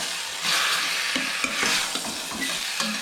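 Pepper chicken sizzles and fries in a pan while a spoon stirs it in repeated scraping strokes, close and fairly loud, with no talk.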